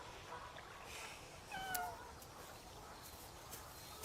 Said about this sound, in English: Oh, a cat, so? It's Mildred's cat.